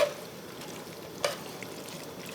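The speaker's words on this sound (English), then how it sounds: "And we'll just kind of toss it around and get it happy." Spaghetti alla puttanesca tossed and stirred in a pan, a soft steady sizzle with a few light scraping knocks, close and quiet.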